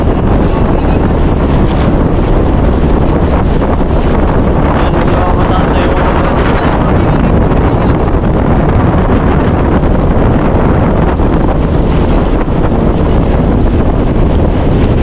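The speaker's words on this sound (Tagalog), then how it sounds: "Lakas na yung hangin" Loud, constant roar of strong northeast monsoon wind buffeting the microphone in front of an island, dense and unbroken throughout, with a voice faintly speaking beneath it.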